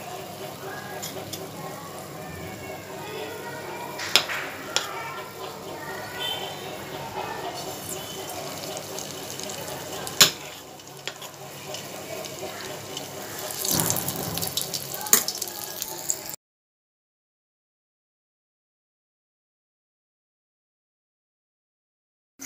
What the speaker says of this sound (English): Fry it from both sides.